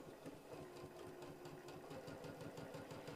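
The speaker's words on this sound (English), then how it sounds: "So I'm just going to sew a little bit." A sewing machine stitches a seam on a heart quilt block, its needle running in a steady rapid chatter with a regular pulse throughout, fairly close and alone without talk.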